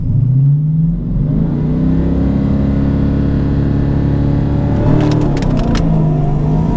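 A Mustang GT engine holds a loud, steady rev near 3,700 RPM before a race launch, a deep layered drone with the pitch lifting slightly toward the end and a few brief metallic clicks.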